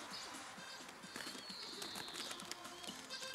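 A pigeon from a breeder's flock of fast fancy pigeons coos softly and repeatedly nearby, with faint chirps and light rustling in the background and no speech.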